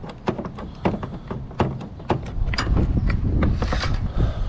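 A 10mm socket loosens the battery terminal nuts with a quick run of sharp metallic ratchet clicks and taps. A denser mechanical rattle follows, close and loud, with no one speaking.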